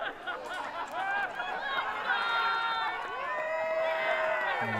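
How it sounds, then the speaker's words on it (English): Crowd at a pro pickleball gold medal match in Brisbane, Australia, cheering and shouting steadily throughout with many overlapping voices, fairly loud and sustained. "you can hear them getting on their feet, cheering their sides on."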